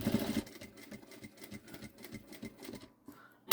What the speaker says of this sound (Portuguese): Vou começar a costurar assim.